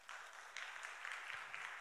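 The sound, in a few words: church congregation applause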